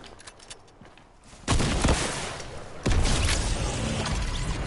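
Gunfire in the video game Fortnite, bursts of rapid shots starting midway and a second louder volley, continuing as a dense crackling barrage to the end.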